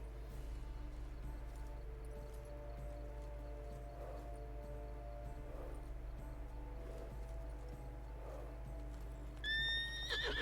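Faint, intermittent snorts and whinnies from a horse in The Witcher 3 sit over a steady low ambient hum, with a brighter, louder horse call near the end.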